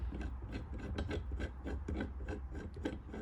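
Crank arm removal tool being screwed down on a Berg go kart crank, a close, quiet rhythmic rasping and rubbing of threads turning in repeated strokes.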